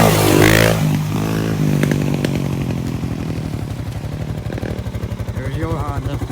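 A Honda dirt bike engine revs loud and close, dropping from a roaring burst into a steady, rapid idling putter, with people talking over it.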